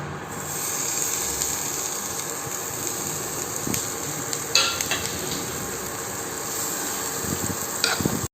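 Chopped vegetables sizzling in butter in a pan for chowmein, a continuous close frying hiss with occasional stirring scrapes and clinks.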